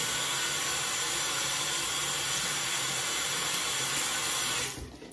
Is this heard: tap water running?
yes